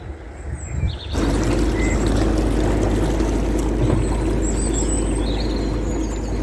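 A high-pressure water hose tops up a canal boat's tank at Atherstone locks, a steady, loud rushing gush that starts abruptly and continues unbroken, with faint bird chirps above it.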